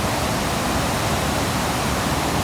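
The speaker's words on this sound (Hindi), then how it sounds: "पानी इतना धड़ाधड़ आ रहा है," Mountain stream water rushes forcefully along a valley trek near Skardu, a dense, loud, steady roar of white water filling the whole clip with no break or voice.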